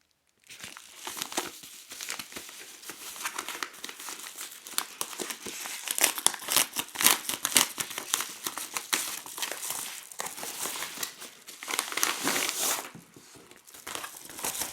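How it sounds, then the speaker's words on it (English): Plastic packaging crinkles and tears as the box of an InstaBox Zeus SZ5000 action camera is opened, a steady close-up stream of rustling, crumpling and crackling that runs nearly the whole time without speech. "So let's go ahead and open up the package."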